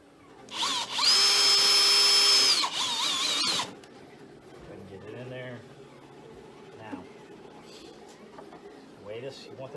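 Power drill driving a part into an ARC Trooper backpack build, one loud sustained burst lasting about two and a half seconds near the start, then quieter handling noises with some talk.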